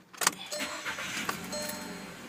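A car engine cranks and catches during a battery test. A short burst of starter cranking is followed by the engine settling into a steady, moderately quiet idle.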